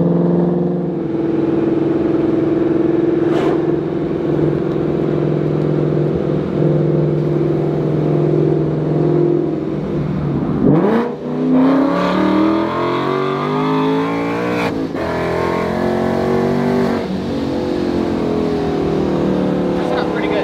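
A 2021 Procharged Mustang GT 5.0 with catless headers idles with a deep, steady rumble, then revs sharply several times, each blip rising loud and close before settling back down.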